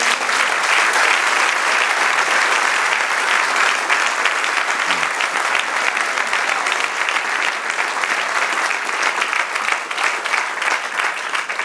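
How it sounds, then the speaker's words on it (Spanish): A church congregation applauds steadily, a dense, loud wash of many hands clapping that fills the room for the whole stretch without letting up. "Dad un aplauso al Señor."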